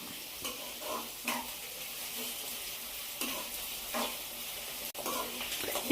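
Steady sizzling of prawns frying in a pan, a continuous crackle with a few soft stirring scrapes, close and alone without talk.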